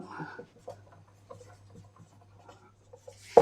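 Writing on a board during a mathematics lecture, heard as faint, intermittent scratchy strokes and taps over a low steady hum, ending with a louder knock.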